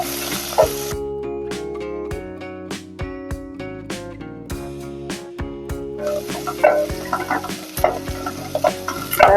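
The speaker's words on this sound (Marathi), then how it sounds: "कांदा आणि कडीपत्ता घालून देते चांगला हलवायचं" Onion and curry leaves frying in oil for a spicy Malvani black pea curry, stirred with repeated sharp scrapes and clinks of a spoon against the pan over a steady sizzle, close and fairly loud.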